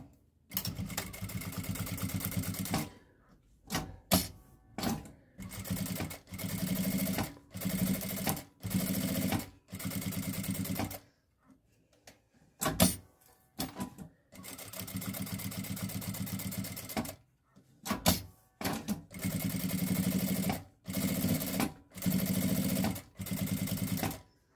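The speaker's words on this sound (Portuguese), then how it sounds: "costura de meio pé de máquina em toda a volta" Sewing machine stitching a half-foot seam all the way around a fabric sanitary pad holder, running in repeated close bursts of steady whirring separated by short pauses.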